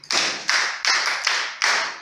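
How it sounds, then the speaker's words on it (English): A classroom claps for a student during an ICT lesson on the information processing cycle, five short bursts of clapping in a row, each starting sharply and fading, close and fairly loud. "Yes, clap for him."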